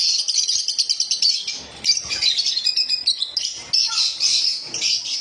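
Lovebirds for sale, a crowd of small parrots, filling the air with a dense, loud, close flurry of overlapping high-pitched chirps and tweets, with brief squawks and short pauses between bursts.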